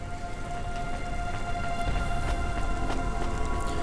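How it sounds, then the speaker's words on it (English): Steady rain falling in the video game Cloudpunk, a dense even hiss of drops on surfaces with scattered sharper patters, continuous and moderately loud with no talk. "Don't let all the rain get you down."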